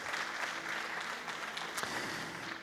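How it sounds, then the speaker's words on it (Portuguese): A church congregation applauding together during a worship service, a continuous crackling patter of many hands at moderate volume with a few sharper claps standing out, low hum of the room beneath. "Então vamos aplaudir o Senhor e selar isso na sua vida em nome de Jesus."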